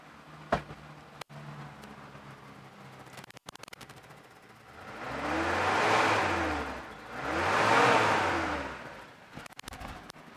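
A 1994 Daihatsu Zebra with a 1.3 engine, heard as a few faint clicks and then two strong revs that each climb and fall back smoothly, loud and close with no talk.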